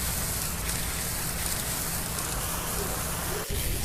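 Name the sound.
heavy rain downpour on muddy red clay road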